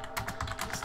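Rapid computer keyboard typing, a quick run of close, crisp key clicks at an uneven rhythm with no voices.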